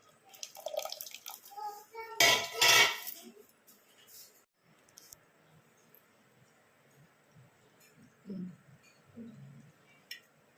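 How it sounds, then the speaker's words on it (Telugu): Remaining tamarind broth for turmeric pulusu poured into a cooking pot in a home kitchen, a loud splashing burst lasting about a second, followed by quieter drips and faint kitchen sounds. "మిగిలిన పులుసు కూడా వేస్తున్నాను"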